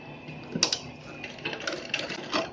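A sewing machine stitches along the side of a folded cosmetic pouch, making quiet, uneven short bursts of mechanical rattling and clicking at close range.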